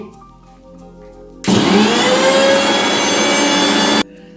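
A kitchen blender churns small mango pieces with a spoonful of sugar, starting abruptly with a loud steady whir that holds for about two and a half seconds before cutting off, with quiet room sound on either side.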